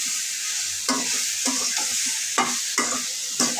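Okra and other vegetables being stirred in a frying pan, a continuous hissing sizzle broken by a handful of sharp scraping strokes of a spatula against the pan, close up and without speech.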